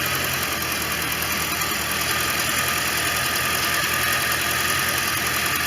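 A 1989 Corvette roadster idles after OEM fuel injectors were fitted, giving a steady, loud, close engine hum with a faint rapid ticking and no change in revs.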